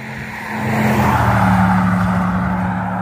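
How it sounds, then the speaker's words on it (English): Cars speed past on a roadway beside West Branch State Park at night, a loud swelling whoosh of engine and tire roar that builds and holds steady. "Cars are hauling."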